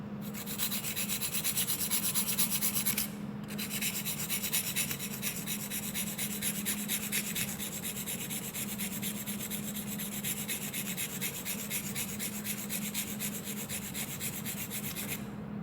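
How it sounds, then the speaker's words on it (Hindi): A pen nib being rubbed and ground to shape against an abrasive surface, a steady continuous rasping scrape lasting throughout, close and fairly loud, with a brief pause near the start. "निब का झुकाव दाईं साइड रखें, ताकि दाईं साइड से थोड़ा सा ज़्यादा घिस जाए"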